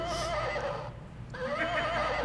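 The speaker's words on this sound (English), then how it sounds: "Pretty horse." A horse neighs during a live puppet show on an open stage, one drawn-out whinny with a wavering high tone that breaks off briefly mid-call and then resumes, loud and close.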